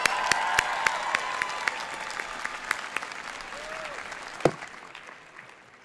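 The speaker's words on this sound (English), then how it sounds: "How about another round of applause for Ailey and Ebony?" Applause from an audience at a 2023 commencement ceremony, a broad crackle of many hands clapping with a few louder nearby claps and a whoop, gradually thinning and dying away toward the end.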